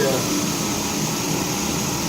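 A steady mechanical hum of an idling Chrysler 300M engine, continuous and fairly loud, with a whirring fan-like hiss over it and no pauses.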